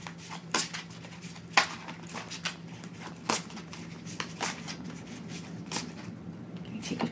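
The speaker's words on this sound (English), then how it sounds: "As I shuffle the deck" Angel Tarot cards being shuffled by hand, a series of soft papery riffles and rubs with sharper flicks now and then, quiet and close over a faint steady hum.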